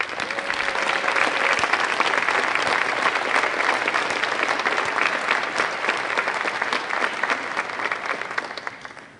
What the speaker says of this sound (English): Let's give all of our schools a round of applause.